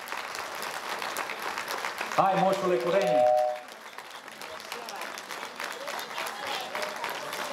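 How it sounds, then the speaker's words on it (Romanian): Audience applause at a concert at the Reduta Cultural Centre in Brașov, a steady wash of clapping throughout, with a voice calling out over it partway through. "Haideți să-i aplaudăm!"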